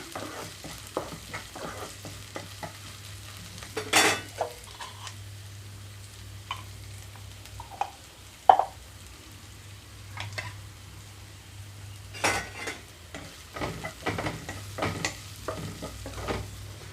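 Boiled vegetable pieces go into a pan of browned onions with turmeric and are stirred, making a quiet, steady sizzle broken by scattered scrapes and sharp ladle taps against the pan; no voices.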